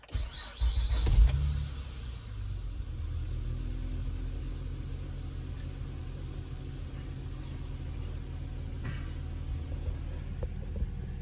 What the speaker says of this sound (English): We'll just start the car.